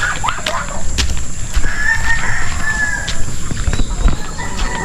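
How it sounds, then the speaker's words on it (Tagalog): Farm chickens cluck and call in the open, moderately close, over a constant outdoor hum with scattered knocks and other animal noises. "Ayan yung mga manok."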